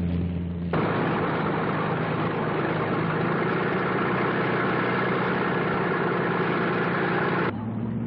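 An old airplane engine catches and settles into a steady, loud idle, a continuous throbbing drone that runs evenly before dropping back near the end.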